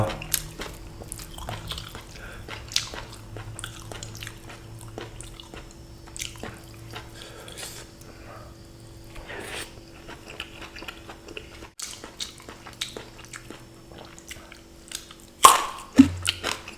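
Someone bites and chews crunchy eggplant served alongside a spicy Thai-Lao frog dish, making soft, close crunching and wet chewing sounds throughout, with a louder crunchy burst near the end.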